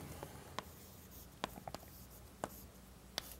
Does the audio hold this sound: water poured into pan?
no